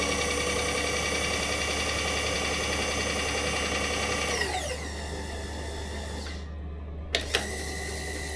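A Bridgeport milling machine's power feed runs at full speed, a steady mechanical whine with a low hum that drops in pitch and winds down partway through, followed by a couple of sharp clicks.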